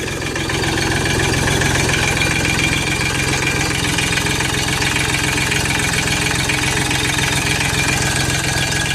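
A Mahindra Max 24 compact tractor idles while it warms up, giving a steady, loud, close diesel rumble with an even knocking pulse and no variation in engine speed.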